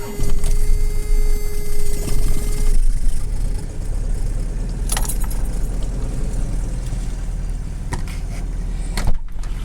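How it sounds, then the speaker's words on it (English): A 1993 Toyota 22RE engine that needs a timing chain idles steadily up close, a continuous low rumble with a faint whine early on and a few light metallic clicks and rattles over it. "I want you to hear the motor."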